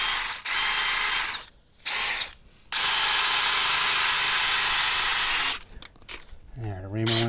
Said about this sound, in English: There, the reamer went through.